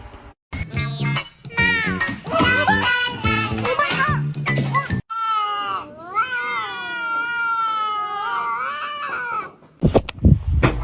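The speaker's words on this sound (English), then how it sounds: "Look at this little kitten." A small kitten meows repeatedly, close and loud, with drawn-out wavering cries and a short gap before a final burst.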